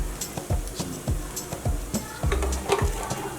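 Minced keema with spices and crushed red chili frying in a karahi, an even close sizzle broken by repeated scraping strokes of a spoon stirring the meat.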